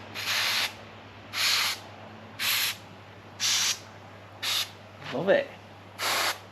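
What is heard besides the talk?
sprayer spraying on a boat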